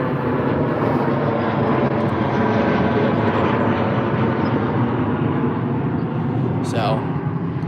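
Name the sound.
British Airways A319 departing Heathrow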